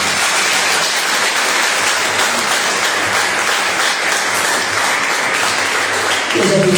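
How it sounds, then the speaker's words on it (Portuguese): A crowd applauds loudly and continuously at a church service, a dense wash of clapping that holds steady throughout. "Você pode aplaudir Jesus?"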